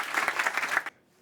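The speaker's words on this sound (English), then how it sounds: "Please give him a round of applause." Brief burst of audience applause at a tech conference talk, a dense patter of hand claps that stops abruptly after about a second.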